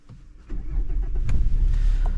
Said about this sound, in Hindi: अभी हो चुकी है अपनी किया सेल्टोस स्टार्ट